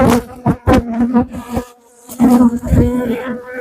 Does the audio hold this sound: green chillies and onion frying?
no